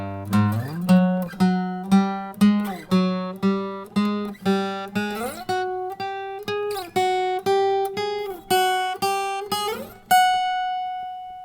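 Plucked guitar notes sound in a steady series, each pair stepping a half step higher in pitch, ending on a long ringing note.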